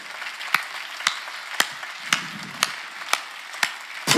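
Sparse, evenly spaced sharp claps during a Korean church sermon, about eight single hand claps in a slow steady rhythm over low room noise, no talking.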